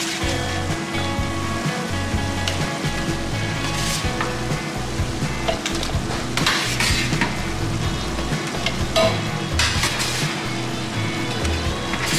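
Chicken tikka, roasted in an oven, fries in a pan with green chilli masala for Hyderabadi green chicken, giving a steady, loud, close sizzle with occasional stirring scrapes throughout and no talking.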